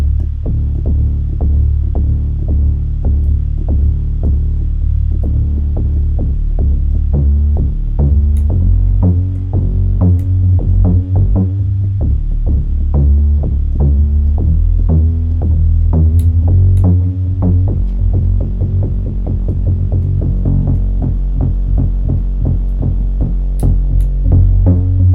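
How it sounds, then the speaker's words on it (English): An 808 bass built from stock Logic Pro X sounds and plugins booms in a loud, continuous, throbbing pattern of deep sub-bass notes, with no talking. "I'm going to make it into an 808."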